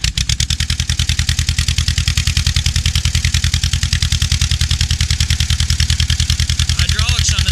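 A 1954 John Deere 40C tractor engine runs at a steady, rapid putter, its loud close-up exhaust pulses ticking evenly throughout with a slight rise near the end.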